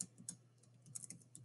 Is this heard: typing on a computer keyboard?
yes